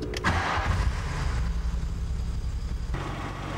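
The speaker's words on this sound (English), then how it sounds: "remove the breather hose and start the engine" A Volkswagen Corrado G60 engine cranks and catches in a workshop with its breather hose removed, then settles into a steady mid-pitched idle, loud and close.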